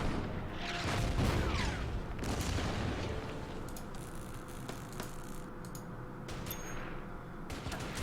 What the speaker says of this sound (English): Let's move over here and do some counter battery fire.